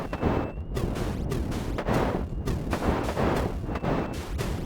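Rapid, dense arcade gunfire from the 1982 Sega arcade game Tac/Scan, a continuous stream of repeated blasts with steady rhythm and loud, driving bursts throughout, no talking.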